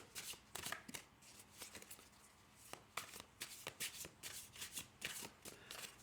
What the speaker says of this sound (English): I'll also give them a manual shuffle.